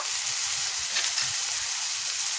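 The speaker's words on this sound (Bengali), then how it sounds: "পেঁয়াজগুলোকে সুন্দর করে লাল করে ভেজে নিয়েছি এরপর এখানে আমি দিয়ে দিচ্ছি রসুন বাটা" Garlic paste hits oil with onions already fried red, giving a loud, continuous sizzle with low stirring knocks and scrapes underneath.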